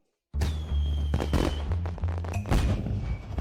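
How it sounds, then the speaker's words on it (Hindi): A rapid barrage of firecracker bangs and crackles bursts out suddenly, loud and dense, with sharp pops layered over rumbling booms. "पटाखे छोड़ रहे हैं।"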